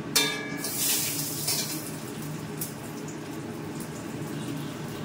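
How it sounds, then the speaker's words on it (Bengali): Peanuts frying lightly in a pan give off a soft, steady sizzle with a brief louder crackle at the start, heard close and alone. "বাদামটা একটু ভাজতে দিচ্ছি"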